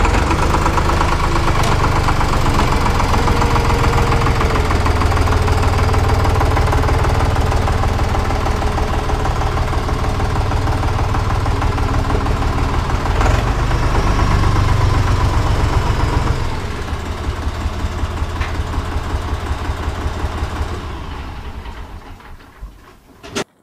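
An IHC 633 tractor engine runs at idle close by, a loud, steady diesel chug with a rhythmic knock that holds for about twenty seconds before winding down and stopping.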